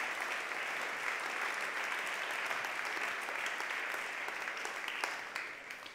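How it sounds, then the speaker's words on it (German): A conference audience at a German digital-learning opening event applauds continuously for about six seconds, a dense, even clapping that holds at a moderate level before easing slightly at the end. "bitte einen Applaus für ASU, die hier vor mit organisiert hat"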